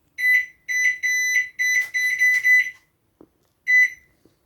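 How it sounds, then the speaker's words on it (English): An old microwave beeps repeatedly: a series of loud, piercing electronic beeps in quick bursts, then a pause and one more beep, close and alone with faint clicks between. "Because it was going beep, beep, beep, beep, beep."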